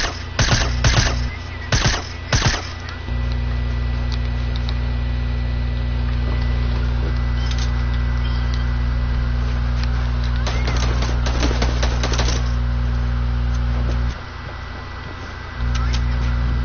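Gunfire in the video game Fortnite played with mouse and keyboard: sharp bursts of rapid shots early on, then scattered volleys, heard over a constant low drone with a player talking.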